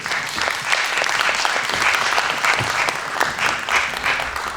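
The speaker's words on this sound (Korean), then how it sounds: "박수로 맞아 주시기 바랍니다" Sustained audience applause at a Pyeongtaek Art Center forum, welcoming a speaker to the stage: dense, steady clapping from a sizable crowd that fills the whole stretch at an even, loud level.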